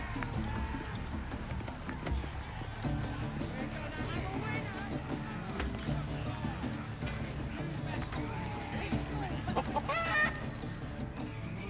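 Chicken clucking in the Baldur's Gate 3 goblin camp, busy repeated clucks layered among game music, ambient noise and voices talking throughout.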